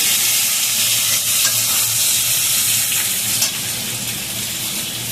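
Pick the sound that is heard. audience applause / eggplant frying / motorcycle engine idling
eggplant frying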